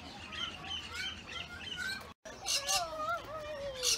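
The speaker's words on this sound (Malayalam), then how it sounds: "കോക്കറ്റിൽ എന്ന് പറഞ്ഞിട്ടുള്ള ഒരു ബേർഡാണ്. ഓസ്ട്രേലിയയിൽ ഭയങ്കര കോമൺ ആണ്." Cockatiels and other birds calling in an Australian aviary where chickens are also kept, with repeated bright chirps and whistled calls, some rising and falling, fairly close and continuous, broken by a brief gap.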